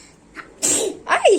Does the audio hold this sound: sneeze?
yes